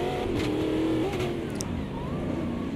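Stock car engine in the racing game Automobilista 2, a steady loud drone that rises and falls in pitch as the car revs and shifts, with other cars audible around it in a close racing pack.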